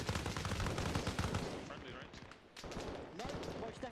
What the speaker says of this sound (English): Are we taking sniper fire from somewhere?